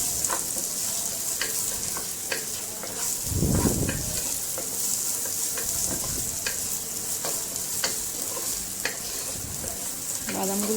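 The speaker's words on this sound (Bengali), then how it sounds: "বাদামগুলো প্রায় ভাজা হয়ে চলে আসছে।" Nuts fry in oil in a pan over medium heat for zarda, a soft sizzle running throughout while a spatula scrapes and stirs in repeated clinks, with one louder rustling burst midway.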